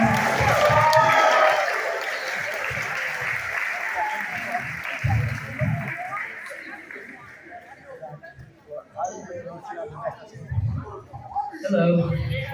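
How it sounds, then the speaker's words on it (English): A school audience applauds graduating students at a moving-on ceremony, with sustained clapping that fades and thins over several seconds while a voice talks over it and scattered claps continue. "applause."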